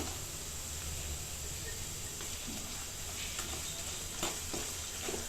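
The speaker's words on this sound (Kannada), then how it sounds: "ಹಸಿ ವಾಸನೆ ಹೋಗೋವರೆಗೂ ಫ್ರೈ ಮಾಡ್ಕೋಬೇಕು" Ginger garlic paste and green chillies frying in a pan, a steady close sizzle and hiss with occasional scraping stirs throughout.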